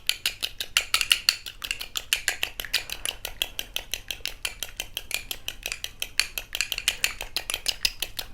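Egg white is whisked briskly in a bowl for a face pack, producing a fast, steady run of close, rhythmic clicking strokes against the bowl throughout, with no talking.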